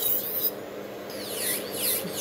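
An electric nail drill e-file grinds gel off a fingernail, a steady high whine with pitch sweeping up and down as pressure on the nail changes, close and continuous with no talk.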